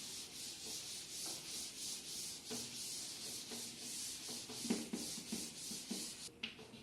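Writing is rubbed off a board in a classroom lesson, a steady run of scratchy, rhythmic rubbing strokes, loud and close, with no talk over it.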